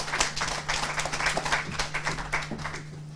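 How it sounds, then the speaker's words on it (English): Steady clapping from a small crowd at a professionals and business engagement event, a dense patter of hand claps over a low hum, continuing without a break. "Round of applause for BMF."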